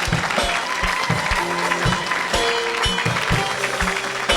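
A church congregation applauds continuously during a Sunday worship service, dense steady clapping mixed with crowd noise and a few sustained musical tones, fairly loud throughout.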